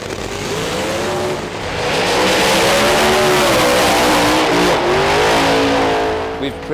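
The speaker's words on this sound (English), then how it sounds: "this is the first qualifying run proper, pitting Andy up against a fellow Brit, Bert Englefield, in his Hot Rod Ford" Pro Mod drag race cars, including a Hot Rod Ford, thunder through a qualifying run at the 2011 FIA Euro Finals, a loud sustained engine roar rising in pitch as they accelerate and hold full power, with a voice faintly underneath.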